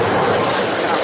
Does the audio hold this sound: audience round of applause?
no